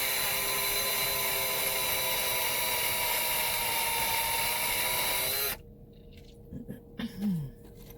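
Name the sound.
drilling with a small drill bit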